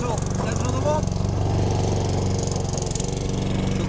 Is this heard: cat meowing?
no